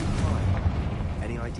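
A Confringo blasting spell explodes in Hogwarts Legacy with a deep, continuous rumbling boom that sits under a voice speaking throughout.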